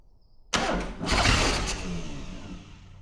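Ford Pinto engine in a kit car abandoned for 23 years, running on carb cleaner: it cranks and catches with a sudden loud start, then revs briefly before settling into a rough, steady run, close up.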